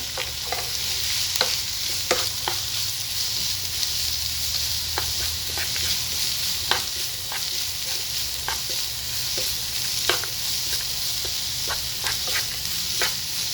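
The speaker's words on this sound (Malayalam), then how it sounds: "അരിഞ്ഞു വെച്ച ഒരു വലിയ സവോളയാണ്, അത് നമുക്ക് ചേർത്ത് കൊടുക്കാം. ഇനി നന്നായിട്ട് വഴറ്റി കൊടുക്കാം." A large chopped onion sautéing in a pan, with a steady low sizzle and frequent sharp scrapes and clicks of stirring throughout, no talking.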